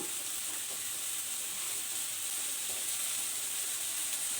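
Curry seasoned with salt, chili powder and turmeric frying in a pan gives a steady, even sizzle with a soft hiss that runs unbroken throughout, fairly close and with no one talking.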